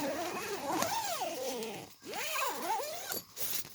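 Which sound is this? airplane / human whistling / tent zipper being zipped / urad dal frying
tent zipper being zipped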